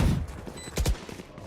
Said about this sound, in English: Second kill onto Zealot.